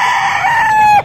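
A rooster crows once, loud and close, its sustained call ending with a short downward drop.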